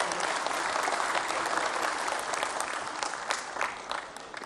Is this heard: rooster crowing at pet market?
no